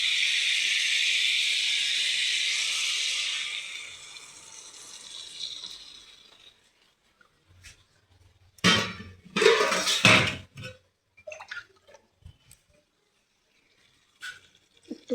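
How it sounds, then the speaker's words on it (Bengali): Water poured into a pan of spiced vegetable and pointed gourd curry: a loud sizzling hiss that fades over several seconds, followed by scattered clinks and scrapes of a utensil against the pan. "এবার আমি জল দিয়ে দেবো।"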